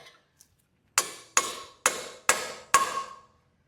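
Five sharp metal strikes from hammering a pickle fork into a Jeep Renegade lower control arm ball joint, spaced roughly half a second apart, close and loud with ringing decay, after a couple of faint taps.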